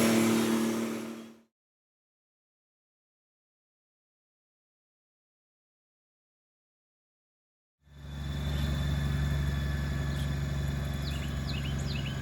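A motorcycle engine rumbles, drops to silence, then returns as a steady, close engine drone as it pulls out of a house driveway, with faint birdsong.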